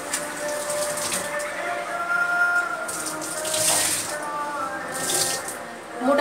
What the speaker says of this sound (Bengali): তো টাওয়েলটাকে ভিজিয়ে মোটামুটি নিংড়ে নেব যেন জল না পড়ে